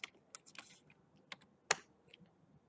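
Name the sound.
typing on a computer keyboard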